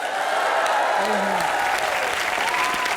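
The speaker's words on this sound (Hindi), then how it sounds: "जोरदार तालियां हो जाएं" A studio audience at a comedy show claps steadily and loudly throughout, a dense wash of applause with a brief voice calling out over it.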